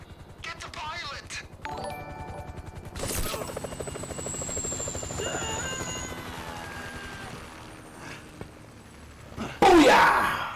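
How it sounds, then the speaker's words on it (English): Helicopter rotor chop from Grand Theft Auto V gameplay, a steady mid-level thrum running for most of the stretch amid other game effects, with a burst of louder noise near the end and people talking over it. "The chopper's gotta go, man."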